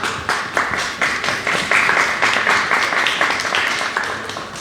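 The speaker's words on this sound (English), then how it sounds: "You can save your applause until we pass the bill." Audience applause rings out at a Rhode Island public records legislation event, a steady wash of many hands clapping that stays fairly loud and even throughout, with no talk over it.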